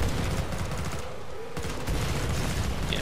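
Several players shooting at once in the co-op video game Killing Floor 2, a dense continuous roar of overlapping gunfire, loud throughout with a brief dip in the middle.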